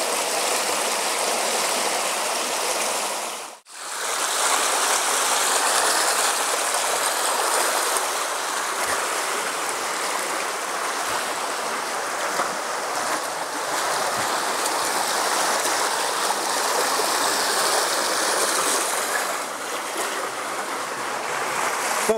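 A river flows steadily nearby, a dense, even rush of moving water that carries on for over twenty seconds with only a momentary dip near the start.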